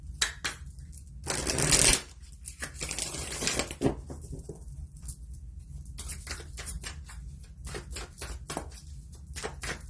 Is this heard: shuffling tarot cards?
yes